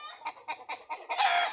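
A chicken gives about five rapid, close, loud clucks in a row, ending in a longer, harsher squawk.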